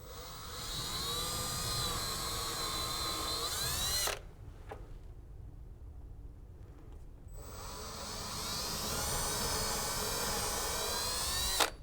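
A power drill drives screws while installing a commercial door closer, whirring steadily for several seconds, pausing briefly, then running again at high speed, close and loud with no talking.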